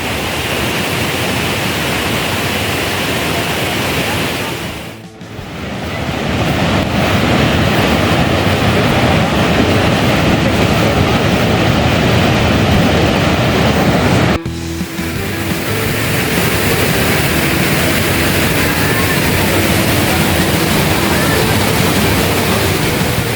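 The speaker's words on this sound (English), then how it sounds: "The roar of the water is so loud, I can barely hear my own thoughts." Constant loud roar of Iguazu Falls, a huge jungle waterfall on the Brazil side, heard up close as a dense wall of rushing water with two brief dips in level.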